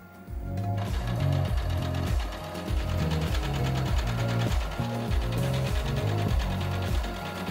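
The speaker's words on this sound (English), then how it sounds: "next I'm just gonna hem the bottoms of my 3 crop top shirts" A sewing machine hemming the bottoms of crop top shirts, running in steady rhythmic bursts of rapid needle clatter with a mechanical whir, close and continuous, without speech.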